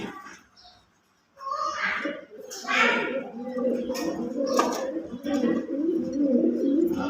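Pigeons in a loft, including Dubai and Kuwaiti Teddy breeds, coo in deep, repeated throaty rolls after a brief quiet start, with several birds overlapping at close range.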